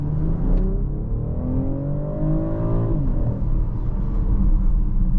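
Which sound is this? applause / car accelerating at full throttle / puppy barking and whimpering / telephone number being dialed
car accelerating at full throttle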